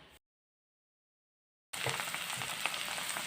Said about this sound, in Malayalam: ഇങ്ങനെ കോവയ്ക്ക് എണ്ണയ്ക്കകത്ത് ഇട്ട് കൊടുത്തിട്ടുണ്ട്